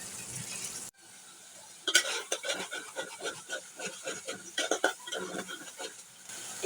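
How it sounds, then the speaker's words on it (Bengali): Spice masala with half a spoon of coriander powder and salt is stirred and fried in a pan, a spatula scraping and rubbing in uneven close strokes over a faint sizzle, alone. "এখন মশলাটাকে ভালো করে কষিয়ে নেব।"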